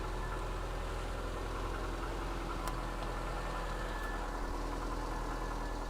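A car engine idles steadily just after starting, a constant close mechanical drone with a slightly rattly, clinking texture and a couple of faint clicks, no voices.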